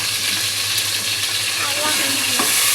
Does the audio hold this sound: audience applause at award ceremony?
no